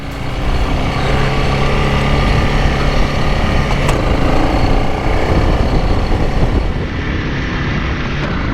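Family motorbikes ride down toward a beach in far north Queensland, on the way from Cairns to Cape York. Engine and road noise stay loud and steady throughout, with wind rushing over the microphone and no voices.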